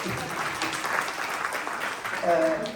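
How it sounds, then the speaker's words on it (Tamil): Audience applause at a devotional music tribute concert, a dense, steady burst of clapping from a hall full of people, with a brief tonal sound near the end. "ஸோ கிருஷ்ணாவுக்கும் மீராவுக்கும் ஒரு பெரிய கைத்தட்டி வேணும"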